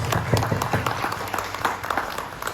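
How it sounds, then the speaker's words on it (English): An audience claps in a round of applause at a South Asian heritage event in Wales, a steady, dense patter of many hands filling the room for a few seconds. "A round of applause."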